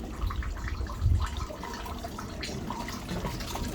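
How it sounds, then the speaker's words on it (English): Water poured from a watering can into a garden downpipe and tubing feeding a water butt, a steady splashing and trickling flow that runs continuously, close and moderately loud, with no voices. "I'm going to put some water down there from the watering can and see if it feeds through down that tubing into this water butt"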